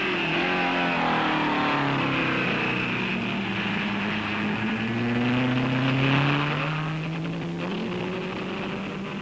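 A 1959 Aston Martin DBR1 race car laps the Nurburgring, its engine holding a loud, steady roar with rising and falling pitch as it accelerates and shifts, close and continuous for the whole stretch.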